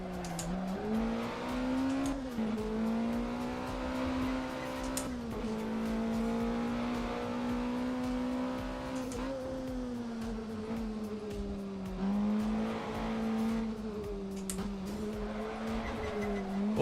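A race car in a VR sim racing game holds a long, wavering tyre slide. The engine drones loudly throughout with small rises and dips in pitch, and short squeals and bumps break in now and then.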